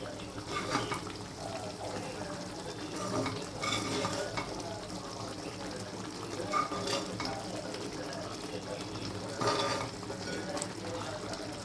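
Chicken pickle gets mixed in a pan, a soft continuous sizzle with repeated scraping strokes of a spoon coming in uneven bursts, fairly quiet and close.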